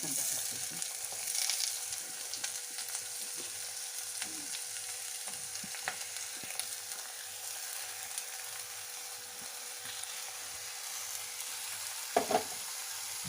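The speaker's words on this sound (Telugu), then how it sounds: "చేసి పెట్టుకున్న ఉల్లిపాయ ముక్కలు వేసేసుకుందాం అండి" Chopped onions fry in a pan for a capsicum prawn curry, giving a steady, moderate sizzle with occasional soft stirring scrapes and a brief louder clatter near the end, heard without speech.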